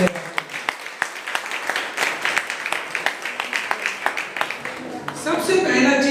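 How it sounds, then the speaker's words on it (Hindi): A church congregation claps their hands together in thanks to God, producing a steady run of sharp, crowded claps that swell toward the end. "ताली बजा के प्रभु को धन्यवाद।"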